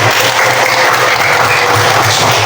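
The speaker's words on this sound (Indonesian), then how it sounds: "Tangan tepuk tangan yang meriah." Classroom applause from a group of students, dense and steady clapping filling the whole stretch at close range with no talk over it.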